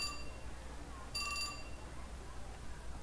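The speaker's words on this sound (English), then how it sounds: "Just then, Minorikawa's phone chimed." Phone email chime from the game 428: Shibuya Scramble, a bright electronic ringtone that chirps twice over a steady low hum, with a short pulsing burst in the middle of the clip.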